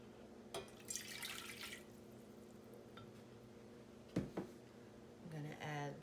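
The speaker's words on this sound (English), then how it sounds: "I'm going to mix in the water." Water poured into a pan holding butter while making churro dough: a short splashing pour, then a few drips and small splashes, with a brief voice near the end.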